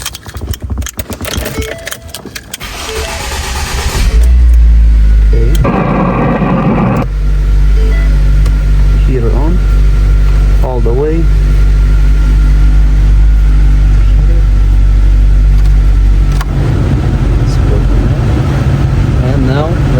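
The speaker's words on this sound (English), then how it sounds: "So first, let's start the vehicle." A 2010 Ford Focus with an overheating problem from a damaged coolant outlet, heard as keys jangling and the engine cranking and starting, then settling into a loud, steady idle. Someone talks over the running engine.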